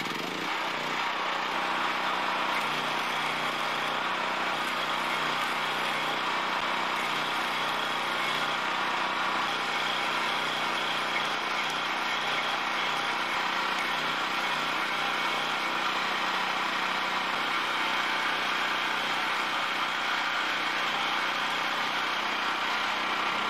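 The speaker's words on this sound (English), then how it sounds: "tabs welded in place." Welding tabs onto a DIY electric bike frame, as part of building the front axle and steering, gives a steady, unbroken hiss and crackle that holds at an even level throughout, with no talking.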